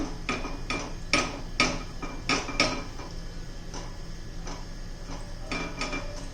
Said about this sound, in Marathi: आता आप्पे पात्र गरम करण्यासाठी ठेवूया